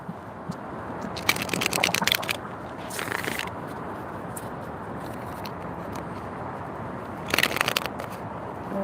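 A deck of cards is riffle-shuffled in quick, crackling bursts: two close together, then another after a pause.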